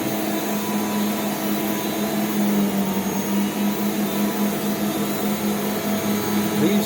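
A Rainbow D4C vacuum cleaner runs steadily on carpet, its brush roll fitted with small plastic beater bars, giving a loud continuous motor whine with a constant tonal hum throughout.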